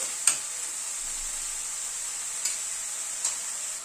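Banana flower with salt and turmeric is stirred in a pan, a soft steady sizzle with three brief spatula taps scattered over a few seconds.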